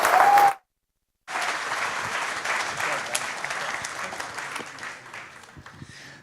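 An audience at a startup pitch night claps heavily, with dense sustained applause after a short silence, fading slightly toward the end.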